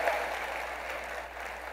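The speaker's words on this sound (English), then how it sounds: "You guys can give an extra round of applause for Ben because he did such a nice job." Brief, soft wash of audience applause for a presenter at a Microsoft Teams event, steady and somewhat distant, lasting under two seconds.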